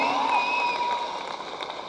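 Audience applause at the grand launch event of Dil Raju Dreams fills the hall as a steady, dense wash of clapping with crowd noise mixed in, sustained for the whole stretch without a break.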